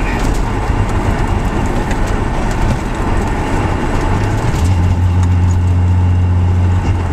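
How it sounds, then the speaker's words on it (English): A car accelerates hard in second gear up to 60, its engine a loud, steady roar that fills the whole stretch. A rising drone swells near the end, and there is no speech. "Second gear all the way up to 60."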